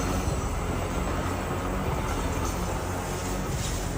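A train passes, a continuous loud broadband rumble and rush of rail noise with no talking.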